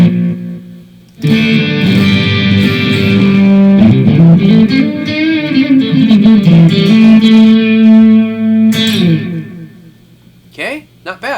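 An electric guitar played through the Amplitude preset Deep Shades of Purple, running into a Teisco Interface multi-effect pedal: loud, distorted sustained notes and bends with heavy effects, alone.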